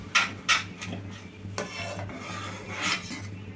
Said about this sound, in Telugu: పోసుకొని బాగా కలుపుకోవాలండి